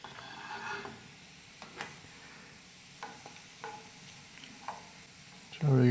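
Round chilies fry with browning onions in hot oil for a lentil tarka, giving a faint, steady sizzle with soft stirring clicks, and a louder burst at the very end.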